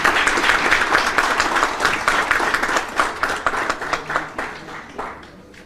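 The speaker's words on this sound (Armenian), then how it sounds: "Ես առաջարկում եմ բոլորին ծափահարել ֆրանսիացի մեր գործընկերներին աջակցության համար" Audience applauding French colleagues at a lawyers' gathering: a full, steady round of clapping from a hall of people that gradually thins and fades out toward the end.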